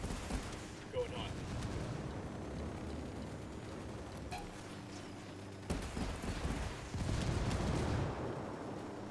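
Gunfire in the video game Ghost Recon Wildlands: a faint, scattered spray of shots and pops under a steady game soundscape, with players talking over it.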